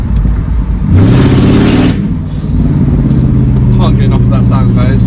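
A Mercedes-Benz E55 AMG W211 V8 revs sharply, then drops through downshifts with rising and falling bursts and crackles, loud and close, with no talk.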